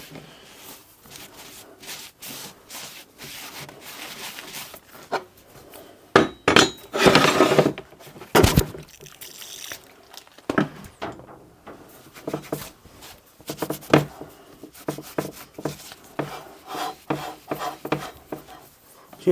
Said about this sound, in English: clean some of the protective grease off it